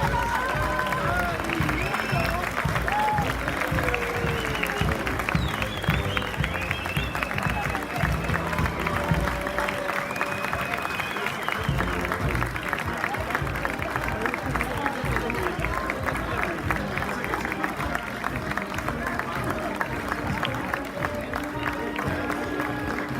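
Sustained applause from an outdoor festival crowd greeting a brass band at a May celebration, steady dense clapping that fills the whole stretch, with some voices mixed in.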